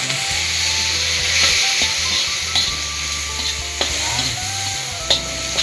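Meat and mung beans being stirred in a frying pan for a Filipino monggo dish, with a steady sizzle throughout and scraping stir strokes recurring every second or so, close and alone with no talk.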